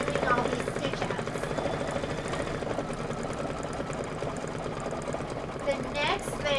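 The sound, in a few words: Brother Stellaire embroidery machine doing stitch outs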